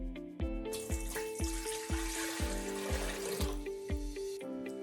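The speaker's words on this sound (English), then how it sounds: "we want to fill this bowl with 4 cups of water" Water poured from a container into a bowl, an even rush and splash lasting a few seconds with gurgling, rising glugs as the vessel empties, close and fairly quiet.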